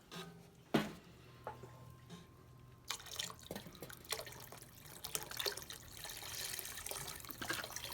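Chicken stock is poured into a soup pot, beginning with a few sharp clinks and splashes, then building into a steady liquid pouring and splashing sound, close and moderately quiet, with no talking.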